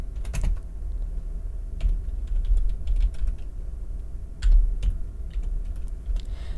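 Keys on a computer keyboard clatter in scattered, irregular taps and small bursts, close up and fairly quiet with low background rumble.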